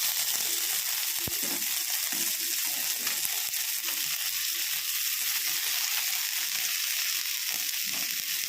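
Fish sizzles steadily in a pan with just a spoonful of oil, a constant close crackle and hiss with a faint clink or two as it is turned over, and no talking.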